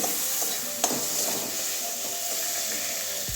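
Chopped tomato sizzles in a pan for an egg curry with capsicum and potato, a close, even hiss with a scraping stir and a sharp clink near the start.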